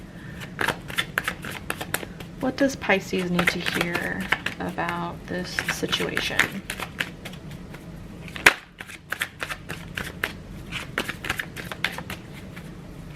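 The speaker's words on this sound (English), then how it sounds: "We're going to pull about 3 cards for advice." Tarot cards shuffled in repeated quick riffling bursts across the whole stretch, close and crisp, while a person talks over them.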